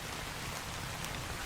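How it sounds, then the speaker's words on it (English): Rain falling in a video game, a steady even patter of drops on surfaces forming a continuous close hiss throughout, with no voices. "I'm glad I can show off the rain"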